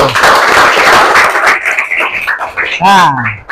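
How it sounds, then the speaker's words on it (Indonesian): Classroom applause from students at a teacher's prompt, a dense burst of clapping that fades after a couple of seconds into scattered voices and chatter. "Beri aplaus dulu."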